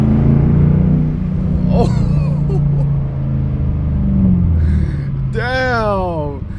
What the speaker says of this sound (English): let's get a nice second gear peel out